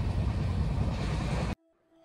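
Inside a moving passenger train with upper sleeper berths, a loud, dense rumble of wheels and carriage roars for about a second and a half, then cuts off abruptly into near silence.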